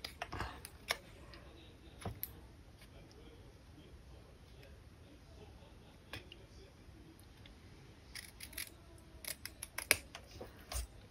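Scissors snip through paper card in short, sharp crisp cuts, several isolated snips followed by a quicker cluster near the end, close and quiet in an otherwise hushed room.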